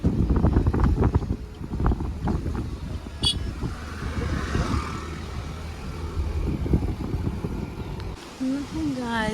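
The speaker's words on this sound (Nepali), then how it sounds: "हावा चाहिँ यस्तो चलिरहेको रहेछ" Strong wind blows at Pokhrebung bazaar near Darjeeling, buffeting the microphone with loud, gusty low rumbling while a person talks over it.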